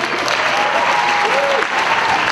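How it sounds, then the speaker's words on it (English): Steady, dense applause from an audience at a high school poetry slam fills the room, continuous and fairly loud with faint crowd murmur, and a brief vocal tone rises through it. "round of applause for our sacrificial poem"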